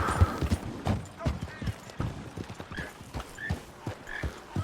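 Horse hoofbeats in the Red Dead Online video game, a quick rhythmic clip-clop of a trotting horse at close range over a low background, with a few faint snorts.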